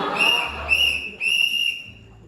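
Three shrill whistle blasts, the first longest and the others short, ring out loud and near during a theater stage performance, with faint stage noise between them.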